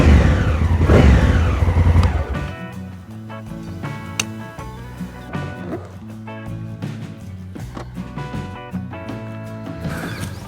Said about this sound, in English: Beautiful sounding engine, a 270-degree firing angle.